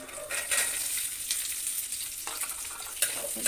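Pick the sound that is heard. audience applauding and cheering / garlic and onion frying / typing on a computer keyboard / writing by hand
garlic and onion frying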